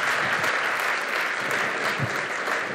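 Audience applause after a speech at a cold January morning breakfast event, a full, even roar of clapping from a large room that holds steady throughout.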